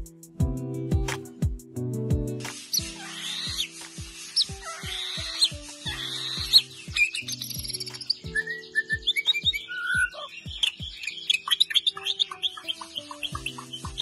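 Melodic white-rumped shama birdsong with varied whistles and chirps over a steady rhythmic beat of plucked notes, the bird phrases rising and falling in bright bursts.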